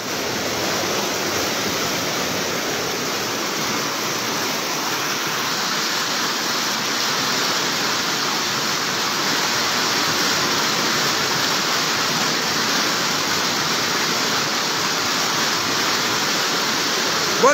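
Rushing floodwater in Bonbon, Libon, Albay after hours of flooding, a steady, loud broadband roar like a torrent or waterfall that holds without a break throughout.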